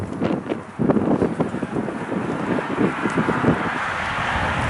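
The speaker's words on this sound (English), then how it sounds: "A little windy out today" Gusty wind buffets the microphone, producing loud, uneven rumbling bursts that settle into a steady rushing noise.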